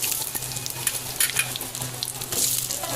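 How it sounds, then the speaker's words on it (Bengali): Potatoes fry in hot oil in a wok, giving a close, steady sizzle with crackling bursts and occasional stirring, and no talking. "কড়াইতে তেল দেই, ডিম রান্না করার জন্য এখন আলু ভাজি করি"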